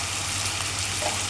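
Ground spices, including coriander, cumin and garam masala, frying in oil for chicken keema, a short steady close sizzle with a low hum underneath and no talking.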